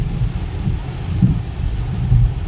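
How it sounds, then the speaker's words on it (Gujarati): Heavy rain pours continuously with low rumbles of thunder rolling through, loud and close, with no voices, in a vegetable market yard in Porbandar. "બહુ ધમાકેદાર વરસાદ ચાલુ છે."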